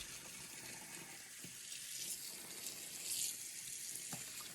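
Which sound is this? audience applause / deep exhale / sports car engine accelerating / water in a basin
water in a basin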